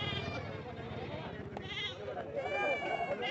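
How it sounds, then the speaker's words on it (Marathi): Goats bleat repeatedly close by, wavering cries overlapping amid a busy crowd of people talking in the background, at a livestock market in Hingoli. "ही आमची शेळी आहे."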